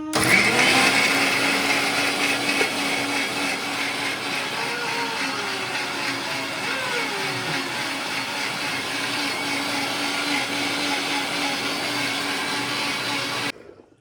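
A mixer grinder whirs steadily while blending homemade mayonnaise sauce made from boiled ingredients, a continuous loud motor drone with shifting pitch that runs for about thirteen seconds and then cuts off abruptly.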